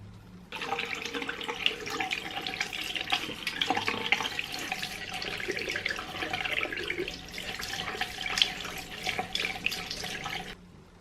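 Tap water runs steadily into a sink onto a makeup sponge, a continuous hissing splash lasting about ten seconds before cutting off, close and even, with no talking.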